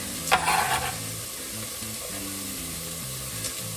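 Onions, peppers and garlic fry in a pot for a vegan pumpkin chili, with a soft steady sizzle under a brief clatter of stirring near the start, then a low continuous hiss.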